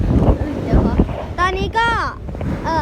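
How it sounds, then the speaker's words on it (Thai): Strong wind buffets the microphone continuously at Pattaya, loud and roaring throughout, while a person talks and makes rising exclamations over it. "ตอนนี้ลมแรงมากเลยนะครับ"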